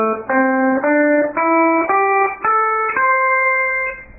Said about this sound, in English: So today I'm going to show you what's called the blues scale